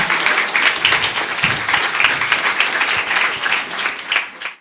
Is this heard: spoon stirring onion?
no